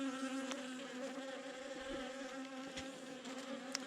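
Honey bees swarm and buzz steadily around an opened nucleus hive, a dense continuous drone with a few brief louder bees passing close, no talking.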